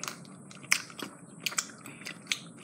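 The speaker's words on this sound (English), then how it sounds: "Sorry for the loud chewing." Loud, close crunching and chewing of hard Dollar General candy, sharp irregular bites and crackles over a quiet background, with no talking.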